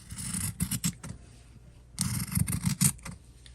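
Scissors cutting between the sewn seams of fabric for a table topper, two close runs of quick crisp snips separated by a short pause.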